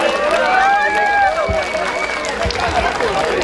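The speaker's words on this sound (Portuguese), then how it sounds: "E dê os aplausos da Rainha e Padroeira do Brasil." Crowd at a town anniversary festival show in Pedralva, Brazil, applauding and cheering in a steady dense wash, with music tones and voices running underneath.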